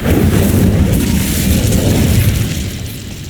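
A fire spell cast in the Hogwarts Legacy video game erupts with a loud, dense burst, a rumbling roar that fills the clip and eases off slightly toward the end.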